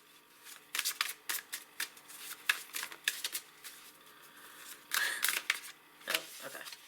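A deck of cards is shuffled up close, giving a series of crisp riffling bursts and light snaps in an irregular rhythm with short pauses between them.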